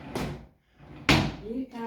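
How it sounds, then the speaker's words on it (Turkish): A child rummages through drawers in a hotel room in Alanya, producing two sharp wooden bangs of drawers sliding and knocking, with brief voices in between. "Hemen başladı çekmeceleri karıştırmaya"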